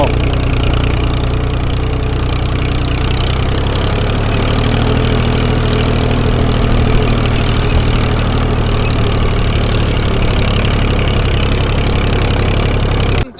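A tractor engine drones loud and steady while ploughing a field, a deep continuous rumble that holds nearly constant before cutting off at the end.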